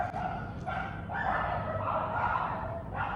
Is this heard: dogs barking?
yes